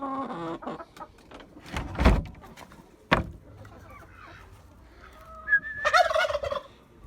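A rooster turkey gobbles in loud rattling bursts in a coop, with a sharp knock midway and more gobbling calls near the end against a quiet background.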